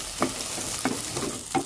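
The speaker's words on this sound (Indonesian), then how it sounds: "baru kita aduk dengan sayurannya" Scrambled egg and vegetables are stirred in a hot pan, giving a close, steady sizzle of frying with about three scraping stir strokes spread across it, and no one talking.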